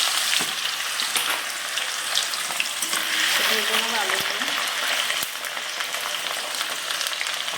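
Potatoes cut two days earlier and slightly blackened fry in a pan for khichuri, a steady close sizzle with stirring throughout, while a voice speaks briefly over it.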